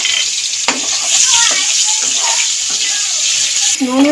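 Cut potatoes with salt and turmeric sizzling in oil left from frying fish, a loud steady hiss of frying close up, with a few clinks and stirring scrapes from a utensil.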